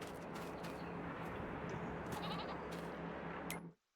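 Sheep bleating in the farming video game Farming Simulator 22, a steady close-up bleat from the pen under a continuous ambient bed, cutting out abruptly at the end.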